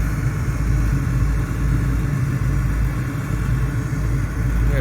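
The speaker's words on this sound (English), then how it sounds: "See if this motor kicks in." A motor on an older Trane package unit with no heat runs as a steady, loud low rumble throughout, an even mechanical drone without clear start or stop.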